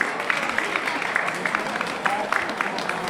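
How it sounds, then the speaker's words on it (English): Applause from an audience at a school Christmas celebration at St Joseph's College, Nainital, a dense steady patter of many hands with crowd murmur mixed in, moderately loud throughout. "A round of applause for them, everybody."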